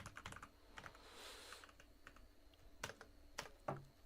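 Quiet keystrokes on a computer keyboard while someone writes HTML and CSS code, with irregular soft clicks and a few sharper taps near the end, faint and alone.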